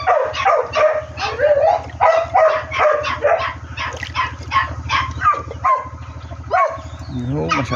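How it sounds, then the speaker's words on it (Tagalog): Hungry farm dogs on a rural Philippine farm bark and yip repeatedly in quick bursts, close and loud, with someone talking over them throughout. "Mga gutom na ho ang ating mga aso."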